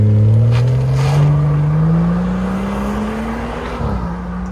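A BMW 740i G11 with a 3.0-litre turbocharged six-cylinder runs up through a rising engine tone, then its exhaust gives a low burble as revs settle near the end, heard close and loud.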